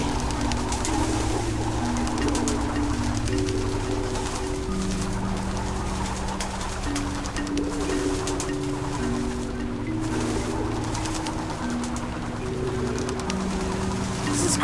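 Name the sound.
birds cooing in video game Antichamber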